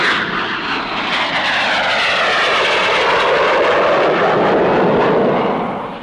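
Loud, sustained roar of an English Electric P1 jet fighter with Rolls-Royce Avon engines flying past at an air show, a broad rushing jet noise with a sweeping pitch shift as it passes, no voices.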